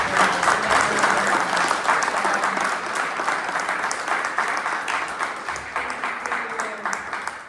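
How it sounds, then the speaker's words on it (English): Audience applause after a presentation on a Mayan Melipona bee sanctuary: a full, sustained round of clapping from a sizable crowd, loud and even throughout and tapering slightly at the end. "let's give a final round of applause"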